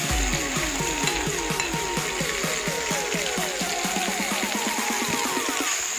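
Green pea paste fries in hot oil with cumin in a pan, a loud continuous sizzle with repeated scraping stirs throughout.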